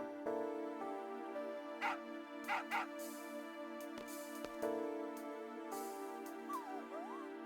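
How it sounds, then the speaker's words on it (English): A dog in a Final Fantasy game gives several short barks and yips at irregular moments, standing out above a steady bed of game music and ambience, with no talk over it. "Dog!"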